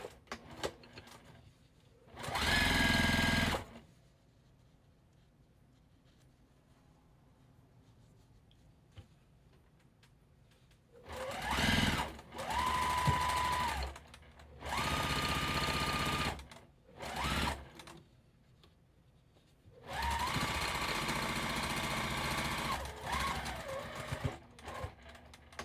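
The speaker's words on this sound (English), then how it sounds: "So I'm going to sew 1 and 2 together, straight down there" A sewing machine stitches quilt block pieces for a card trick block in several separate bursts of a few seconds each, loud and close, with quiet pauses between runs.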